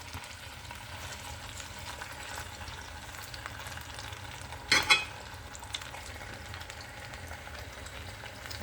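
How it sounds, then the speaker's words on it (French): Meat and carrots with potatoes cook gently over low heat in a pan, a soft continuous sizzle with one brief louder clatter near the middle, no voices. "On laisse cuire doucement."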